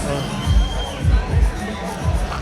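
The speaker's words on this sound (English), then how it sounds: "I want you to go crazy and scream and clap" Crowd at a heavyweight fight event roars and cheers in rising surges, loud and close, with low rumbling bursts of shouting and babble filling the arena.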